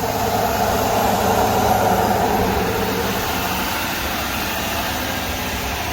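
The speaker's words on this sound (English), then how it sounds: "You can hear how much air is being drawn into the engine." A Ford truck engine sits at high idle during an operator-commanded regeneration, drawing in a lot of air. The result is a loud, steady, close whooshing roar with a low rumble beneath it that eases off slightly over the clip.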